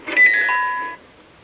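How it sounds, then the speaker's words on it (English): A bright chime signals a page turn in a read-along storybook, one clear bell-like ding that rings and fades over about a second in silence. "Turn the page when you hear the chime."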